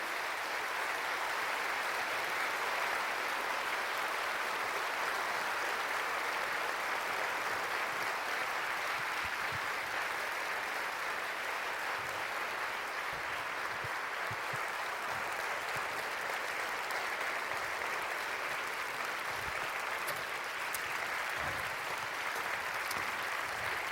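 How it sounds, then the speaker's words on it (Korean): A church event audience applauds steadily as mission teachers are welcomed onto the stage, a sustained, even wash of clapping that holds at moderate loudness for the whole stretch, with no talk over it. "우리 박수로 한번 모셔보도록 하겠습니다."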